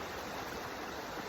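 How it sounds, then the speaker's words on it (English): Water flows steadily in a small creek dammed up by beavers, a faint, continuous rushing hiss with no pauses and no voices. "I've been out here on a favorite little creek to walk on."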